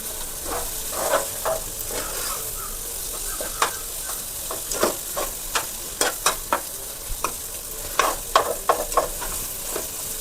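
Garlic egg fried rice being stirred in a frying pan, a steady background sizzle broken by repeated scraping, clacking strokes of the spatula against the pan, close and alone.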